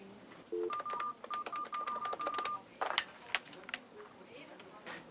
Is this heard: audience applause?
no